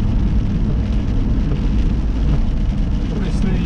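A car driving through heavy rain and standing water, a loud, dense, continuous wash of rain and tyre spray that stays steady throughout.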